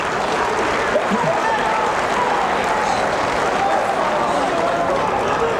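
Wrestling fans in an arena applaud at the close of a scoreless first period in an anticipated match, a steady, dense wash of clapping and crowd noise holding at an even level throughout.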